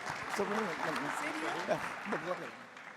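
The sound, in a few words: audience applause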